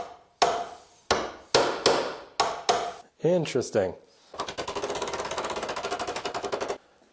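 A sheet metal fender for a mini Willys CJ2A is struck with a hammer over a hammer form: a series of sharp, ringing metallic blows, then a rapid buzzing run of fast strikes, close and loud, with a brief spoken word.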